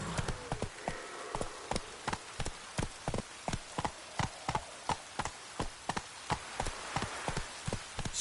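Horse hooves galloping in a video game, a fast, steady run of crisp, evenly spaced clops over a faint background.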